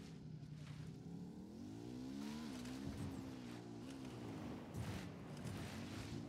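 A motorbike engine in Ghost Recon drones steadily and loudly, its pitch wavering up and down as the rider throttles on and off, with no talk over it.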